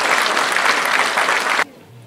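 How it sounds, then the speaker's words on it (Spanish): A crowd claps steadily in dense, even applause for under two seconds, then it cuts off abruptly into quiet. "les vamos a dar un aplauso a ellos"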